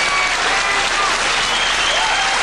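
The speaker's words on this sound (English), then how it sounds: "he's getting a big round of applause, Mark Jarvis is" Sustained applause from a crowd at a 1995 World 8-ball pool championship match honouring Mark Jarvis, loud, dense and continuous throughout.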